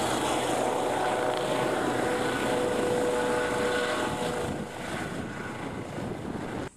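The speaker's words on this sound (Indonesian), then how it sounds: "Lihat, ada helikopter kecil teman-teman" Steady whirring drone of a small helicopter rotor and engine, constant and fairly close, fading slightly toward the end.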